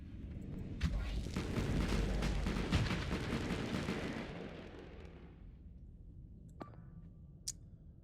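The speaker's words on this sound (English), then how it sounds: "I'm gonna put my Sabos on auto fire and just spam down this ship." Sabot cannons in a naval combat video game, firing on automatic at a ship, sound as a sustained rumbling barrage of heavy booms. The barrage fades out, leaving quiet with a couple of faint clicks.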